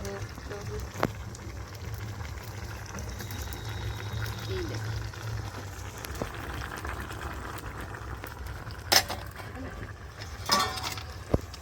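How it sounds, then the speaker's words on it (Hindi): Potatoes drop into a pot of simmering pumpkin curry in a home kitchen, sizzling and bubbling steadily with a few sharp clinks and splashes near the end. "देखियो तो अब हम एमे डाल देव आलू।"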